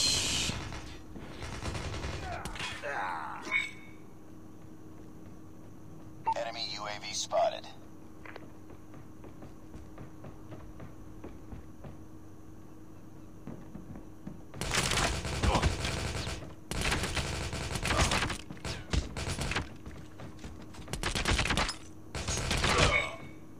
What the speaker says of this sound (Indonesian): Jangan nembak saya dari belakang itu nggak boleh.